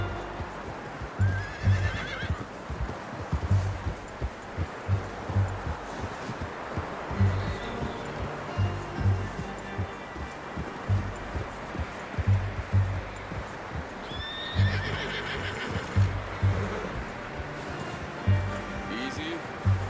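A horse in Red Dead Redemption 2 neighs and whinnies over a steady clip-clop of hooves, with an outdoor ambience of rustling and distant wash running underneath.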